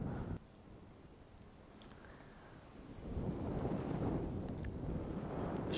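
Wind gusts buffet the microphone while paragliding off a mountain, a low rumbling roar that starts moderate, then swells louder and stays strong, with no talking.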